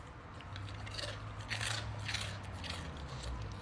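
A Rottweiler crunching Cheetos snacks, close and crisp: a quick series of dry crunching bites and chews over a few seconds, with no voices.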